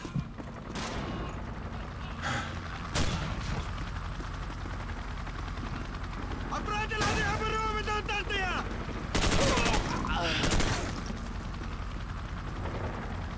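Rapid hip-fire gunshots in a military shooter game, scattered bursts and single cracks over a rumbling battle backdrop, with a garbled radio-like voice briefly audible.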